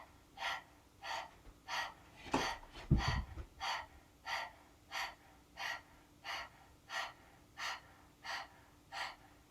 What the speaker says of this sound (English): 15 dog breaths, sticking out the tongue and panting.